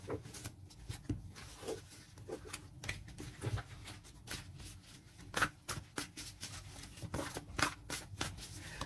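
Tarot cards are shuffled for a fresh draw, giving a quick run of crisp riffling flicks and soft slaps in an irregular rhythm, close and fairly quiet, with no voice.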